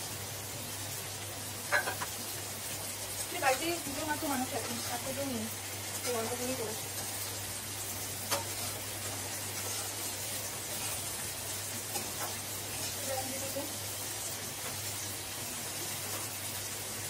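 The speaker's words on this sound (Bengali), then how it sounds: "আমার না এখানে আলু আর পটলটা ভাজাই আছে, তো আমি দিয়ে দেবো, দিয়ে এটার সাথে ভালো করে কষাবো।" Fried potato and pointed gourd being sautéed with spice paste in a pan, a soft steady sizzle with a few scraping stirs, heard under someone talking.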